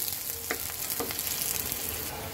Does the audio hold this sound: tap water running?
no